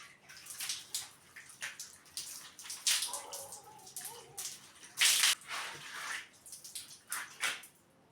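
Running water splashes in bursts as aloe vera is rinsed out of natural hair, with uneven pours and drips close by and no talk.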